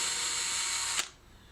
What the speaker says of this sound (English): Using your drill and an appropriate size bit for the L hooks, drill pilot holes on each mark.